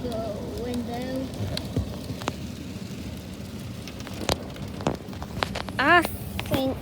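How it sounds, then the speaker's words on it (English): Rain falls steadily outside a window in a soft continuous patter, close and fairly loud, with scattered sharper drop hits and faint chirping and background sounds over it. "I bet y'all can hear the rain, but y'all just can't see the rain out of the window."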